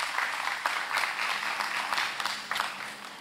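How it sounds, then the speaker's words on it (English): Applause from an audience at a secondary schools spelling bee, honouring two third-place finishers tied on points: steady, dense clapping filling the room for about three seconds, with small swells as it goes on. "Give them a round of applause, please."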